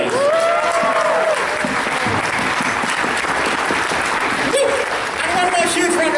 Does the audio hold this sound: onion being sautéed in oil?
no